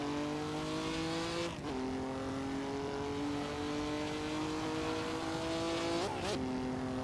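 An Alfa Romeo 158 Alfetta race car howls continuously near the mic on the 1948 Silverstone Airfield circuit in Assetto Corsa, holding steady engine harmonics with two brief dips and rises as it shifts gears.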